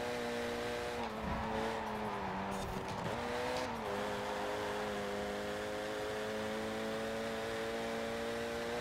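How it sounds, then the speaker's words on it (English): A 2008 Renault Mégane R26-R races in Forza Horizon, its engine holding a steady loud drone with pitch dips around gear changes and brief tire squeal as the front wheels fight for grip. "the front wheels really struggle to find the grip because of the high power of this car"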